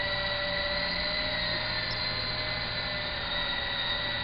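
Small RC helicopter with its rotor spinning on the ground while it yaws in place, a steady high motor whine with a constant hum underneath, close and unbroken throughout.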